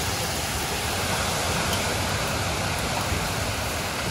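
Hail falls hard during a storm in St. Wendel, Minnesota, a loud, continuous hiss of dense pelting impacts with no pauses and no voices.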